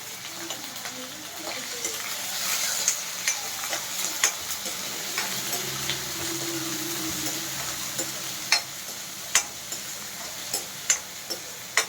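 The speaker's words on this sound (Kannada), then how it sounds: "ಸ್ವಲ್ಪ ಕೆಂಪುಗೆ ಫ್ರೈ ಆದರೆ ಸಾಕು ಈರುಳ್ಳಿ ಮತ್ತು ಹಸಿಮೆಣ್ಸಿಕಾಯಿ" Chopped onion and green chili fry in a pan, a soft continuous sizzle with scattered light ticks and stirring clicks from a utensil, fairly faint and close.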